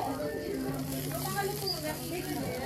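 Pork barbecue skewers sizzle on a grill with a steady, crackling hiss, close up and continuous, while people talk over it.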